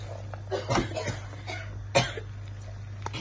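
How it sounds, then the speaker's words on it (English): A few short coughs, brought on by cooking chilies, sound over a steady background hum, with a sharper cough standing out in the middle. "It's the chilies making everyone cough."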